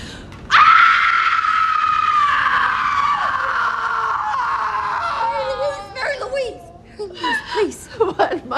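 A woman lets out a long, loud, wailing scream that trails off into sobbing whimpers and broken cries.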